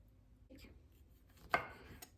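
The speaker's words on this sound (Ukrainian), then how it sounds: "Будемо різати на менші частинки і заповняти серединку" A knife cuts fruit into smaller pieces on a board, giving a soft scrape followed by one sharp, close chop and a lighter tap after it, with no talking over it.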